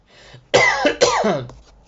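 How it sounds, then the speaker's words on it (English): A person nearby coughs twice in quick succession, harsh and loud, with quiet room tone before and after. "I coughed"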